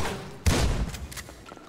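A shotgun blast in the video game GTA V, one sharp booming shot with a short rumbling tail that fades over about a second, heard alone without talking.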